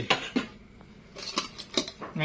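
Utensils clink and scrape against a dish while boiled blue crab salad is tossed, sharp metallic taps coming in an irregular rhythm, close and moderately loud.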